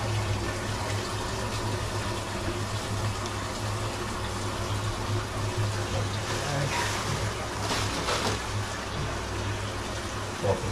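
Water trickles steadily from an old, dirty filter sock pulled from a reef aquarium, a continuous splashing wash over a low constant hum of tank equipment, with no talking.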